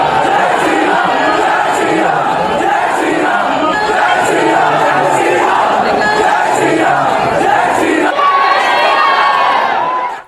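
A large crowd outside Lalbazar police station shouts and chants continuously, loud and dense, with many overlapping voices that swell again near the end.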